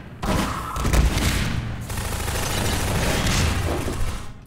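Rapid gunfire in a Half-Life 2 Deathmatch match, with a burst of crackling shots followed by sustained booming weapon fire and mechanical clatter, loud and close.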